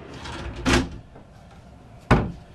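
A knife drawer in the kitchen of a 1999 Beaver Patriot 40-foot Class A motorhome slides and shuts twice, two sharp close thumps about a second and a half apart, near and clear over a quiet room.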